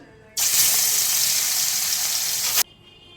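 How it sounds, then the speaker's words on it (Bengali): Fish hits hot oil in a pan and erupts into a loud, sudden burst of hissing, crackling sizzle that lasts about two seconds before stopping abruptly, with quieter kitchen background around it. "এই মাছটা কিন্তু খুবই ফাটে, ভাজার সময় খুব সাবধান করে ভাজতে হবে"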